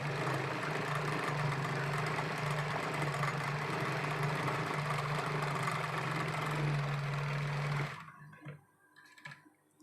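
Electric sewing machine running steadily as it stitches a collar onto a dress, a continuous close whirring hum for about eight seconds before stopping, followed by a few faint handling clicks.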